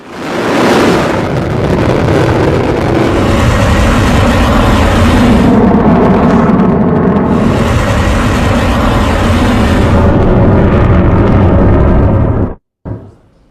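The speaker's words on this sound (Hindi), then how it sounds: "दूसरी तरफ देखिए मिसाइलें कैसे इजराइल में गिर रही हैं।" Missiles falling and exploding in Israel during an Iranian attack. A loud, sustained roar and rumble with blast-like surges, heavy wind buffeting on the microphone, then a sudden cutoff near the end.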